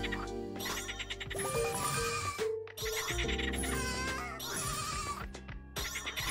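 Goats bleat in the 2D platformer game Bean and Brew, several loud wavering calls in quick succession with brief gaps between them, heard alone without talk.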